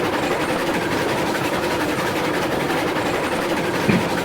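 A train in the railroad video game Railroads Online rolls along the rails near a refinery, a steady rumbling wash with faint clatter that continues evenly throughout without voices.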